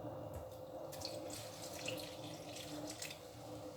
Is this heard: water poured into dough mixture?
yes